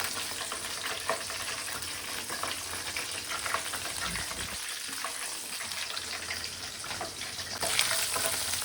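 KFC-style chicken fries in hot oil with a dense, continuous crackling sizzle, heard up close and loud.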